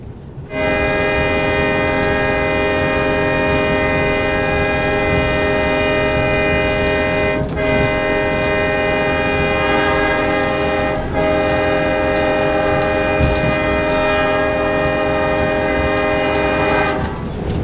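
A Green Bay & Western Railroad locomotive horn blares in long sustained chords, broken by brief pauses, over the steady rumble of the moving farewell excursion train.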